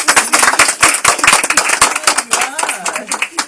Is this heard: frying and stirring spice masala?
no